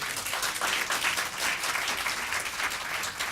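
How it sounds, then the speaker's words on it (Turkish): Audience applause at a Turkish political workshop on penal code article 299, a dense, steady wash of many hands clapping for the whole stretch, fairly close and loud, with no talk over it. "Bu cevaptır bu alkış."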